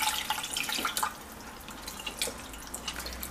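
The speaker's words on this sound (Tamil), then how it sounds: "இதில் தண்ணி சேர்த்துக்கலாம்." Water splashes and trickles into a pot of lemon rasam with tomatoes and coriander leaves, a light uneven pour with small drips, close by and moderately loud.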